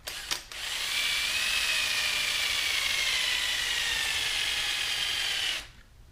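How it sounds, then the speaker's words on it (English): A power drill boring a hole to mount a lawnmower battery disconnect switch whirs loudly and continuously for several seconds after a brief start-up, its high motor whine steady until it cuts off abruptly. "I'm going to go ahead and drill a hole here and drill one here"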